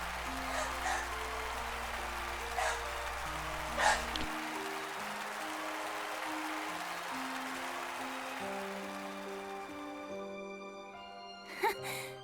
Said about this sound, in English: Their performance finished, the pair left the stage, to the sound of the thundering applause.